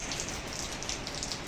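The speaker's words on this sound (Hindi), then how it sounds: "बारिश अब हो रही है।" Steady rain pouring down outdoors on the first rainy day of spring, a dense continuous hiss of drops striking surfaces, fairly close and even, with no voices.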